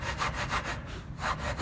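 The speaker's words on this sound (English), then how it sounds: "we're going to cut on this inside edge" A saw cuts through a clamped wooden board along a marked line, making steady rasping back-and-forth strokes close to the mic with no talking.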